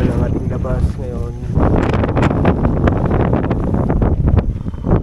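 Strong gusty wind buffets a tent pitched on the summit of Mt. Gulugod Baboy during a solo moto-camping night, a constant loud rush with flapping surges, while someone talks over it.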